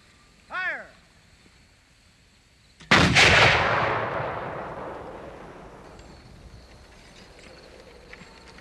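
A Civil War artillery cannon loaded with canister fires once with a loud, close boom that rolls away in a long fading rumble, shortly after a shouted command.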